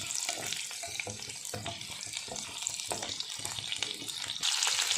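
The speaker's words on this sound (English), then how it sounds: "So I'm just frying this." Steady sizzling and spattering of chayote frying in a pan, with occasional clinks and stirring sounds, continuous and close.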